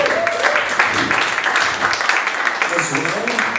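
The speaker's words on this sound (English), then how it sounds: "Give it up one more time for Glenn." An open mic crowd applauds and cheers for a performer, a short burst of clapping mixed with voices and a loud announcer speaking over it.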